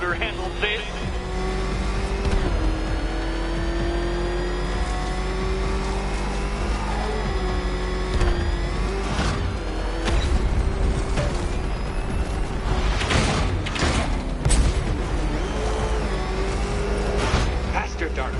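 A car engine races in Batman Arkham Knight, loud and close, revving and rising in pitch through repeated surges, with tire noise and a voice talking over it.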